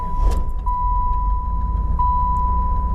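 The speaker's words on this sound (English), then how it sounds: "And let's start her up. Let her run for a second." A 1993 Chevrolet Camaro Z28 V8 runs with a low, steady engine rumble heard from inside the car. A constant high warning chime tone plays over it, and there is no talking.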